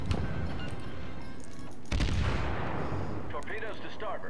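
A naval shell slams into a warship in World of Warships. A sudden heavy boom lands partway through over an ongoing rumble of distant gunfire, followed by fainter crackling debris.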